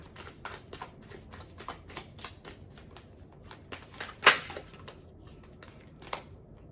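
Tarot cards are shuffled and drawn in a quiet room: a run of soft, crisp riffling clicks and taps, with one sharper card snap near the end.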